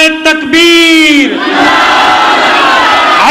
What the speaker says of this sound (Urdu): اللہ کی تکبیر کا نعرہ بلند کیجئے